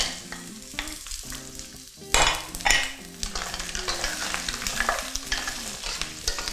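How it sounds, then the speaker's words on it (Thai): Shrimp, shellfish and squid stir-fry with garlic and thyme in a hot pan, giving a loud, busy sizzle broken by repeated scraping and tossing of the utensil, with no talking. "เราก็จะผัดให้ซีฟู้ดนะครับสุกในระดับหนึ่งนะครับแต่ไม่สุกเต็มที่นะครับ"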